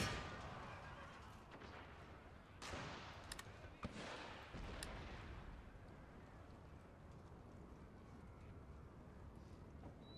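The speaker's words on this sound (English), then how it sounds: "Cannon." Cannon fire in the strategy video game Empire: Total War, with several loud booms early on over a dense, constant battle din of distant firing and rumble.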